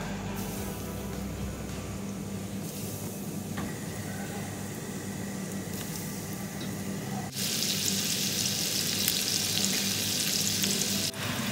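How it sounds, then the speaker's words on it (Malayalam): Chicken pieces for chicken dynamite frying in oil, a steady close sizzle that runs throughout and grows louder and brighter in the last few seconds, with no talking. "ബാക്കിയുള്ള ചിക്കനും കൂടെ നമുക്ക് ഇതുപോലെ ഫ്രൈ ചെയ്തെടുക്കാം കേട്ടോ"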